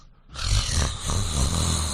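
A person imitates someone else's snoring with a voice, giving one long, loud, rasping snore-like drone with a throaty snort that starts after a brief quiet moment and carries on to the end, close up and with no other talk.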